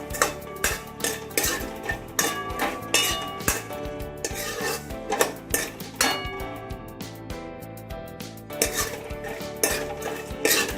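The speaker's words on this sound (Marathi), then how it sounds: "त्याच कढईमध्ये हे बदाम पण आपण तुपात भाजून घेणार आहोत." Almonds roasting in ghee in a kadai, with a metal spatula scraping and clinking against the pan in quick, repeated strokes that carry on steadily.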